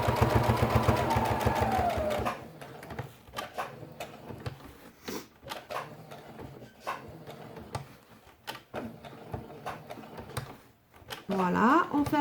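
A sewing machine runs a straight stitch through a felt quiet-book page, a fast mechanical whir followed by a string of short clattering stitch bursts and pauses, close up, with someone talking at the start and end.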